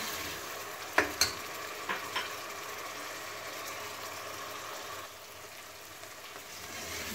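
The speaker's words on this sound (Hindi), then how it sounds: "मिक्स कर लेंगे और इसे गोल्डन ब्राउन होने तक अच्छी तरह भून लेंगे।" Tomato, ginger, green chili and garlic sauté in a pan for an Indian aloo gobhi curry, giving a soft, continuous sizzle with a few sharp clinks of a utensil early on.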